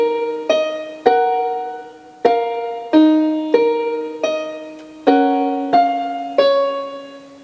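A solo piano plays one bar of the intro, with clear single notes and chords struck about every half second to second, each ringing and decaying before the next.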